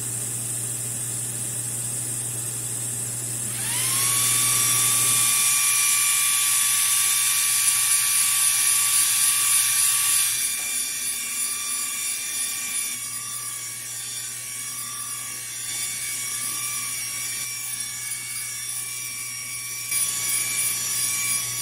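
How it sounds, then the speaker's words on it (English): A laser cutter's exhaust fan starts up with a high-pitched whine and holds steady alongside the hissing air-assist stream, loud and mechanical, continuing with slight changes in tone. "I'm gonna turn on the exhaust fan and the air assist so it'll get a little loud."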